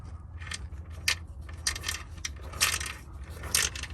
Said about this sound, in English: So I'm going to spin the yoke on the transfer case, and hopefully it'll pick it up on camera.